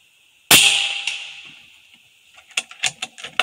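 .25 Air Venturi Avenger air rifle fires a single sharp, loud pellet shot outdoors at 85 yards, its crack ringing out and fading, followed by a few faint ticks and clicks of handling afterward.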